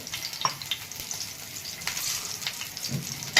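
Green chillies fry in hot oil in a pan, a soft steady sizzle with faint crackles and a few light taps, with no voices.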